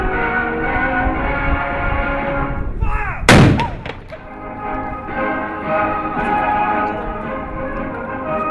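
A cannon fired at Castle Cornet in Guernsey, one sharp loud blast in the middle cutting through a steady bright ringing tone, with a brief echoing tail afterward.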